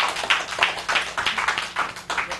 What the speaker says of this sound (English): let's give her a round of applause one more time